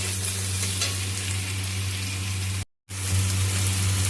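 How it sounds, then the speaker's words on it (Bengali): Chopped tomatoes are stirred into bitter gourd and potato frying in a pan, producing a loud, steady close-up sizzle with soft stirring scrapes, briefly cut to silence before resuming, with no voices. "টমেটোর সাথে এটাকে ভালো করে নাড়াচাড়া করে নিতে হবে"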